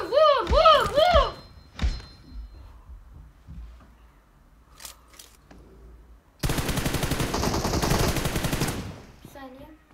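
Gunfire in the mobile game PUBG Mobile, with a few separate thumping shots and then a dense, sustained burst of rapid fire. Voices talk over the game sounds early on.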